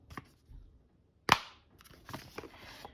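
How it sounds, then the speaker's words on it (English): A sharp, sudden snap as a magnetic lid clicks shut, loud and close, amid quieter handling rustles before and after. "It is a magnet. I love that noise."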